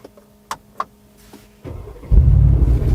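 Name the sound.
Mercedes-AMG G 63 engine start with exhaust pop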